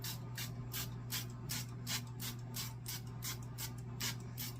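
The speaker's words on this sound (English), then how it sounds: "Another pan, and then I'm going to give that a quick spray" Cooking spray hisses onto a pan before freezer-meal ingredients of ham, potatoes and green beans go in, a string of short rhythmic bursts over a steady low kitchen hum, quiet and close.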